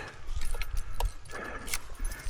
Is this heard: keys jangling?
yes